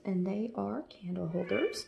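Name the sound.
cat meowing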